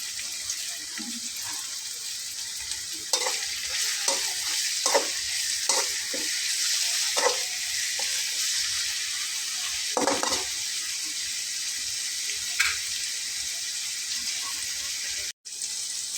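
Salted onions fry in a pan for a Bengali fish curry, a continuous close sizzle punctuated by repeated spatula scrapes and knocks against the metal, with one brief dropout near the end.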